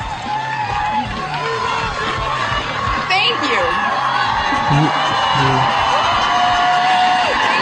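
Cheering and whooping from a large crowd at a senator's event, a steady roar of voices with shouts rising over it while someone speaks briefly on top.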